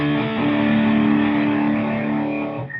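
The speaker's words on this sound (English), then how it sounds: "especially if you put a little bit of overdrive on your guitar" An electric guitar with overdrive plays low, sustained distorted tones, loud and continuous, with no talk, fading slightly at the end.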